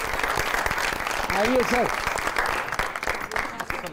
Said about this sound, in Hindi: बहुत सारी तालियों में वेलकम कीजिएगा